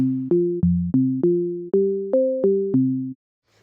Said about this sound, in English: just stack octaves of sine waves